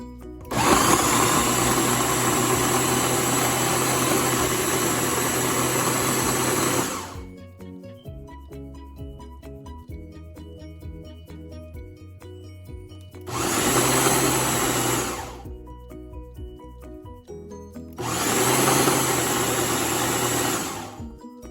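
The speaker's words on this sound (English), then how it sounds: "So let's blend this together." A blender whirs loudly as it purees white and red onions with dry pepper, running in three bursts: a long seven-second run, a pause, then two shorter pulses, alone without talk.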